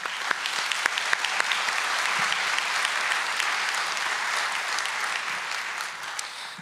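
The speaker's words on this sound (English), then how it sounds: "Could we please give them a round of applause?" Sustained applause from an audience at a party committee meeting, steady dense clapping with a few sharper near claps, holding level for several seconds before easing slightly at the end.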